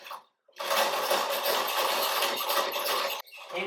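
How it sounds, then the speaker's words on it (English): Small wire baskets of watch movement parts whirl fast in a cleaning machine to fling off liquid, a close, dense whirring rush that starts abruptly, holds for about three seconds and stops. "You can see I'm spinning pretty rapidly to give it a lot of centrifugal force to force all that liquid to spin off there and fly out of the baskets"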